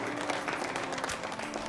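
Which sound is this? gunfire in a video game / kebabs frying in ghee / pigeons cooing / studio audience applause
studio audience applause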